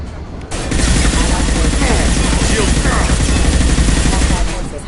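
Sustained automatic gunfire rattles through a Mass Effect 2 firefight, a dense, steady barrage of rapid shots starting after a brief quiet moment and continuing loud and close to the end.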